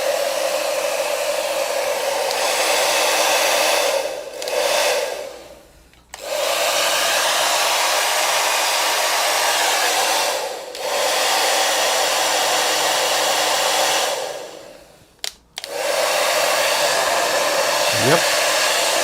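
A repaired hair dryer runs with a loud, steady whoosh of blowing air, cutting out briefly several times as its settings are switched before resuming at full strength, with no talking.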